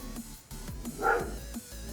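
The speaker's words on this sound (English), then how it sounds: "The dogs are barking because there's paper guys outside." Several dogs bark at people outside a house, a few short barks and yips spread across the moment, moderately close, with a louder cluster in the middle.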